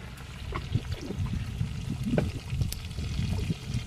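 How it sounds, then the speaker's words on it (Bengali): Water is poured into a pot of chicken kosha cooking at an outdoor picnic, a short soft splashing and trickling pour with small irregular bursts over a low background hum. "জল দিয়ে দিলাম।"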